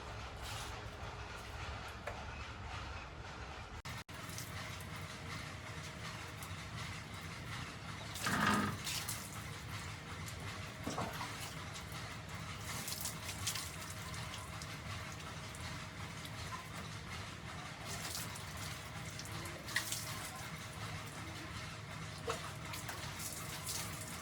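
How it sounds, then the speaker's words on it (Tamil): Water splashing and running over an Apache motorbike during a hand wash, a steady broadband wash of spray and trickle lasting throughout, with a brief louder burst midway and faint background noise. "முதல்ல இப்படி சும்மா தண்ணி கழுவிட்டோம்னா"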